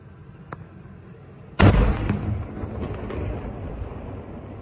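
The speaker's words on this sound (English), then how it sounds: "There were two powerful explosions." A powerful explosion at a Chechen Interior Ministry regiment building in Grozny, a sudden loud blast followed by a long rumbling, crackling tail, preceded by quiet background with a faint pop.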